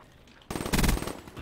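Rapid automatic gunfire in Call of Duty: Black Ops 3 starts abruptly after a short quiet lead-in, then a loud close burst of shots that trails into a few scattered rounds.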